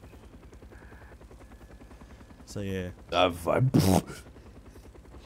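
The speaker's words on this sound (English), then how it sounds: "Helicopter's getting a bit quirky." Helicopter in the video game Call of Duty: Black Ops, a steady low rotor thump running underneath throughout while players talk over it with louder bursts of voice.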